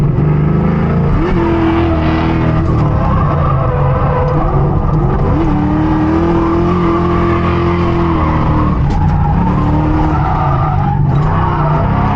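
A New Edge Mustang drift car slides through a street drift, its engine howling at steady high revs while tires skid and squeal loudly and continuously, with the pitch dipping briefly as the car shifts.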